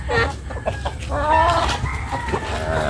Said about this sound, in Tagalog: pagkaon po kita sa atong mga alagang mga manok